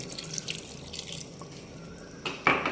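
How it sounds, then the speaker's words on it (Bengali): About a cup of boiled water poured into a pot of goat meat curry, heard as a brief, fairly quiet trickle and splash that swells into a sharper pour near the end. "আমিও 1 কাপ মতো ফুটানো পানি দিয়ে দিলাম"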